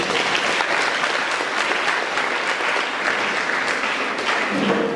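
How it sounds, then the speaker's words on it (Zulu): A crowd claps steadily and loudly for several seconds, a dense, continuous wash of applause with no voices standing out. "Awuthi ukushaya ihlombe bheka yizwa."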